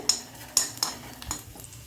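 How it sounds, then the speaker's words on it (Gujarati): A few quick metal taps and scrapes of a spoon stirring chopped garlic in hot ghee in a pan, with a faint sizzle underneath, close by and fairly quiet. "એ ઝીણું સુધારી અને આ રીતે હલાવવાનું છે."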